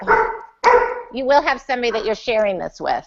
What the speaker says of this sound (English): And I'm sorry if you hear my dog barking.